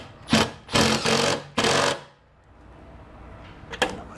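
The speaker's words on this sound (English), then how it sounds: "I'm screwing this in right now into that hole I drew earlier" A power driver runs a self-tapping bolt into a light bar mount in three loud, close bursts of whirring, followed by quieter handling noise and a short click near the end.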